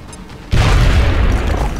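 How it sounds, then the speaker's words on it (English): Grenade explosion in the video game XCOM: Enemy Unknown: a sudden loud, close boom after a short quiet lead-in, followed by a rumbling, debris-filled tail. "Grenade out."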